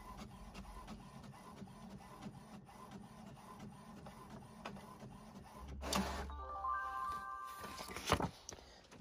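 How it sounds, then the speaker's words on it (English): An HP OfficeJet 3030 inkjet printer printing on Post-it notes hums and clicks steadily as the carriage shuttles back and forth, then whirs, beeps and feeds the page out near the end. "This is just a simple office jet 3030."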